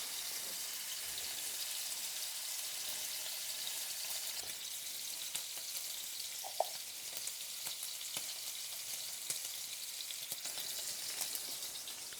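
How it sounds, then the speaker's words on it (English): Steady, soft hiss of food sizzling in a pan at a restaurant in the Japanese countryside, with small pops and crackles scattered throughout and no talking. "look at that sizzle."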